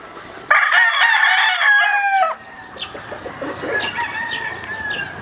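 A fighting rooster from a mixed gamefowl flock crows loudly and close, with one full drawn-out cock-a-doodle-doo. Fainter clucks and calls from other birds follow underneath.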